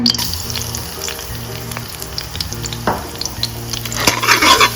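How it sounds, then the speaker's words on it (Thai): Garlic stir-frying in hot oil, a loud close crackling sizzle with spatula scrapes and clatter against the pan, swelling to a sharper burst of spitting near the end. "ผัดให้หอมนะคะ"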